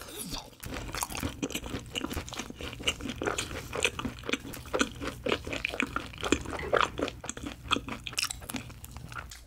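Crunchy cheese balls from a Korean fried chicken order being bitten and chewed up close, with repeated loud crisp crunches in a steady chewing rhythm and no talk.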